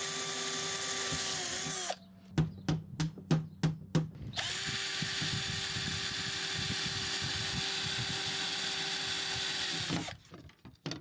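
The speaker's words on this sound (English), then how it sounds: "Dad is drilling a hole at an angle" A power drill bores an angled hole into a wooden door frame in an 1830s farmhouse, the motor whining steadily, broken by a run of short trigger bursts, then a long continuous drilling pass before stopping.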